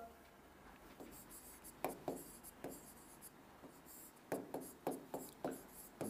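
Quiet scratchy strokes of writing on a board, coming in short clustered bursts with pauses between words. The scratching is close, rhythmic and fairly faint.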